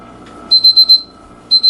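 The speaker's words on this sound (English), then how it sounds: "here's probably about a 30-second warning before the thermometer starts beeping" A loud, high-pitched kitchen thermometer alarm beeps in a quick run of four pulses, pauses, then starts again with two more, close and clear over a faint hum.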